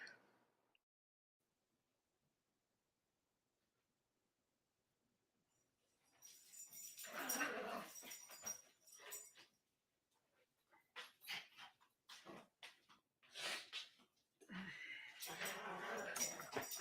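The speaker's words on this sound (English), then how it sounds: "Yep, you hear my dogs barking" Several dogs barking and yipping close by in a home, in repeated bursts separated by short pauses after a quiet stretch.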